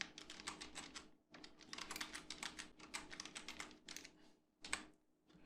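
Rapid clattering keystrokes on a computer keyboard while entering a database query, steady bursts of close, crisp clicks with two brief pauses.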